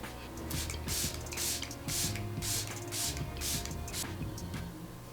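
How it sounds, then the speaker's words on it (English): A Ciate Watermelon Burst setting spray bottle is pumped repeatedly, giving a quick run of short hissing mist bursts with faint clicking from the nozzle, up close and without speech. "So I'm going in now with my favorite setting spray"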